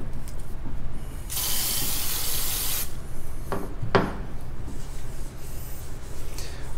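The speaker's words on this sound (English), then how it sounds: "We're gonna go through and spray it down with a multi-purpose solvent" A multi-purpose solvent sprayed onto a Harley-Davidson motorcycle suspension tube, one long hissing burst followed by two short spritzes, close by over a background hum.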